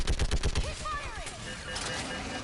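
Gunfire in Mass Effect 3 during the Fall of Thessia mission: a quick burst of rapid shots opens, followed by a rumbling battle din with squad voices over it.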